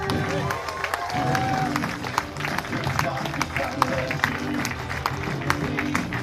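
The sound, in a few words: applause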